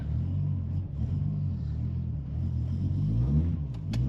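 Toyota JZX90 idling and pulling slowly out of a steep driveway, a steady low engine rumble with mild swells in revs, close and without speech, ending with a couple of sharp clicks.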